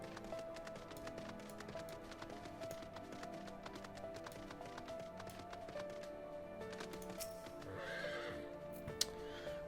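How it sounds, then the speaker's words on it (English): Horse in the video game Final Fantasy 14 neighing over a bed of game music, with clip-clop hoofbeats; a clear whinny rises near the end, moderately loud and close. "Horse."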